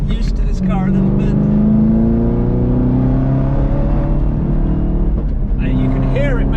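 A Chevrolet Camaro ZL1 1LE on a race track roars loudly from inside the cabin, its engine climbing steadily in pitch through a long pull before briefly easing and revving again.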